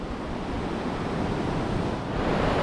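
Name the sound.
strong wind on the beach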